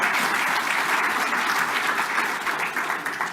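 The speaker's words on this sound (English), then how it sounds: "y'all can clap" A crowd applauds at an Equality Florida event honoring an LGBTQ+ advocate, a strong sustained wave of clapping that stays loud and even throughout, with no one speaking over it.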